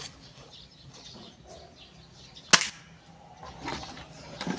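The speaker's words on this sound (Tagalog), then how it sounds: "let's try the single shot first" Type 689 springer sniper airsoft rifle firing a single shot, one sharp close crack in the middle of quiet background noise.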